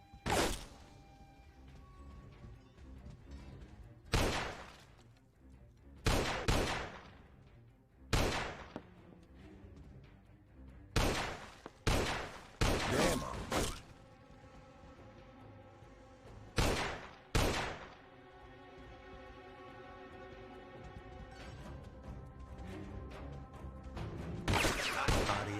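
Pistol shots in the GTA video game ring out as sharp, loud single cracks, sometimes in quick pairs and triplets, spread across the stretch with quieter game ambience between them and a rising rumble near the end.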